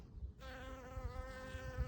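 Bees buzz around a saucer filled with pebbles and water, set out in summer heat. After a short quiet start, a steady, close, harmonic drone of wings carries through to the end.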